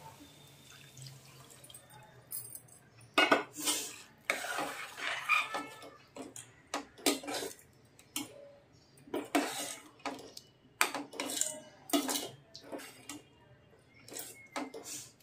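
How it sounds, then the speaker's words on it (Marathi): Hot water pours into a pan of moong dal curry, producing intermittent splashing and drip-like bursts with clinking of a pot and utensils, fairly close and alone with no talking. "आता आपण गरम पाणी घालूया."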